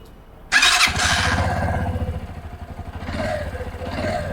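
Cold start of a brand-new Mondial Vulture i 125 motorcycle: the engine catches abruptly after a brief quiet, then settles into a steady, close-up idle with a throaty rumble throughout.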